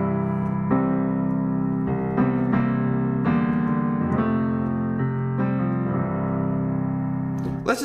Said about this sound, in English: I'm going to show you how to play Swing Low Sweet Chariot.